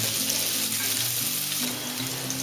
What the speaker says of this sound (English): Now I am going to add the cauliflower and the French beans to the oil. In the similar manner, I am going to fry these until light brown.